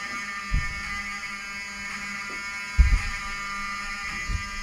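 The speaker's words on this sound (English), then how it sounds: "I want them to hear the fire alarm." A hotel fire alarm rings steadily at the Westfields Marriott outside Washington, D.C., a continuous buzzing tone with a few low thumps and knocks breaking through.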